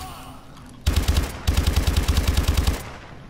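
Two rapid bursts of automatic gunfire from Call of Duty: Advanced Warfare, loud and close, separated by a brief gap, with a quiet room tone before and after.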